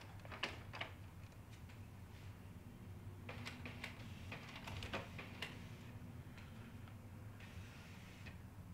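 A Canon PIXMA TR-8520-series inkjet printer with its scanner unit lifted, the cartridge carriage shifting to the centre with soft mechanical ticks and clicks in short bursts over a low motor hum, quiet and close.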